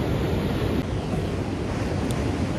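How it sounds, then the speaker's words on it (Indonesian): Steady, roaring surf of growing waves washes continuously onto a beach at Wollongong, Australia, with wind buffeting the microphone throughout. "Ini kok makin gede nih ombak nih"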